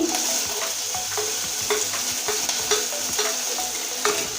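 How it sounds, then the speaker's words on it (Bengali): Chopped capsicum frying in a pan while being stirred, a close, constant sizzle marked by regular scraping and tapping strokes of the spoon. "ক্যাপসিকামটা লাল করে ভেজে নিয়েছি"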